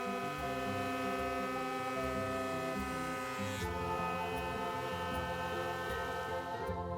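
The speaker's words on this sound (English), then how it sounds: "I'm going to run one edge through the jointer" A wood board fed through a jointer produces a steady, loud motor drone with a droning harmonic whine that shifts pitch partway as the cut loads the machine, with no speech.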